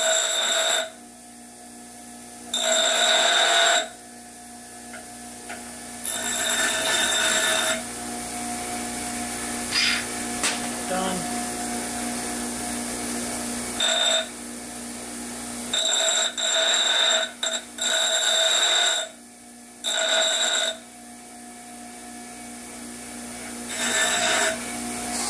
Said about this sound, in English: Take them to the grinder, grind them up a little bit.